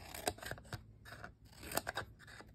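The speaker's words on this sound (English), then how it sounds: "we use little snips just along the seam there" Small scissors snip along a seam in short, quick cuts at close range, arriving in two loose clusters of clicks and rustles.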